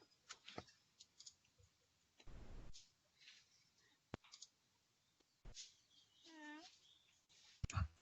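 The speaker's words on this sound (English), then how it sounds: "he's still typing" Keyboard keys click sparsely and faintly over a video call, isolated taps scattered between pauses, with other small noises and a brief tonal chirp mixed in.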